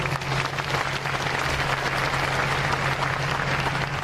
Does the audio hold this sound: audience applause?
yes